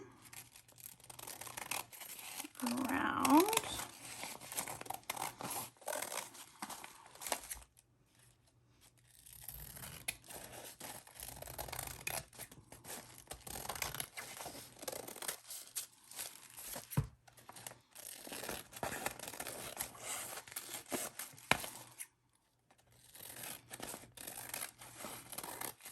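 Scissors snip steadily around printed paper while trimming, close-up crisp cutting and rustling that runs nearly continuously with brief pauses and no speech.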